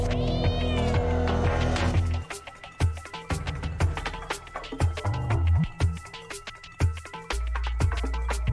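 A cat meows in the launch trailer for Stray, a cyberpunk robot-world video game, with one clear drawn-out meow at the start followed by music beats and scattered effects.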